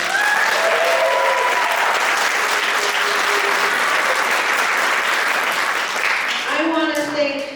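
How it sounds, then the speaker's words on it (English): A crowd at a youth wearable arts show in Ketchikan breaks into loud, sustained applause for a teacher, and a voice begins speaking as the clapping tapers off at the end. "Please give him a round of applause."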